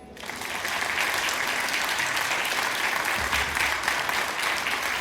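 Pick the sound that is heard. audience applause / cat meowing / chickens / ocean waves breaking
audience applause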